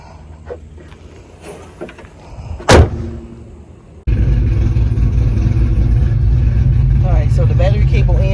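A Pontiac GTO fresh from a battery cable replacement cranks with a sharp burst, then catches into a loud, steady idle that rumbles on close by, with a voice over the first seconds before it fires.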